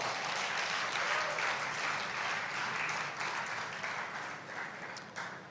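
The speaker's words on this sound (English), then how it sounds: "Can we get a round of applause for that?" Sustained audience applause fills a conference hall, a dense wash of many hands clapping that stays loud throughout before tapering slightly at the end.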